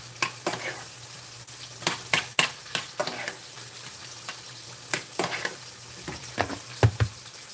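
A pan of yellowtail with peach glaze sizzles softly while a utensil scrapes and stirs in irregular sharp strokes, close and fairly quiet.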